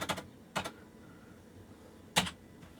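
A few sparse keystrokes on a computer keyboard during setup of a retro PC with a dead CMOS battery: three short bursts of clicks with long quiet gaps, close and fairly soft.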